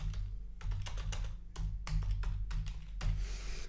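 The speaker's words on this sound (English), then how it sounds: "You can type in here," Keys clatter on a computer keyboard while a question is typed into a form, a steady run of close, crisp clicks with brief pauses and no voices.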